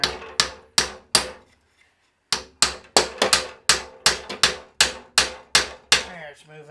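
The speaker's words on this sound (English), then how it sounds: "I'm just gonna pound it like nicely with a hammer." A hammer strikes a metal bolt repeatedly at close range, sharp ringing blows in a steady rhythm, with a brief pause before the pounding resumes.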